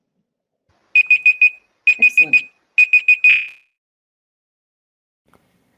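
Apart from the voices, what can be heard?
timer alarm going off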